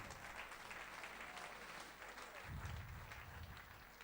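A church congregation claps for Jesus at a faith service, faint and distant, a steady continuous wash of applause with a slight swell partway through.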